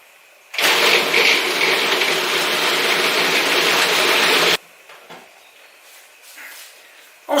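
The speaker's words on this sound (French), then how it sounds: "Je commence par broyer les citrons avec mon robot." A food processor grinds lemons in a single loud, dense whir lasting about four seconds, then stops abruptly, leaving quiet kitchen noise behind.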